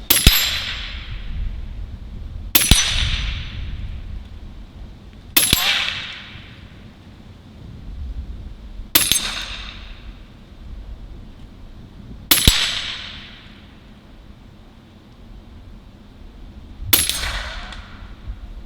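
Six sharp pellet shots from a Western Mordax Venom air rifle, each a crisp crack followed by a brief metallic ring as it strikes a metal target, spaced several seconds apart and heard alone.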